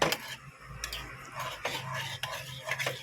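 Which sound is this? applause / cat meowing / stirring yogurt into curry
stirring yogurt into curry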